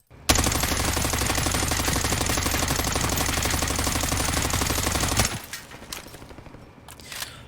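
Rapid full-auto bursts from an XM4 assault rifle in the Warzone video game, loud and close, a continuous stream of shots for about five seconds before stopping, followed by faint trailing echoes and ambience.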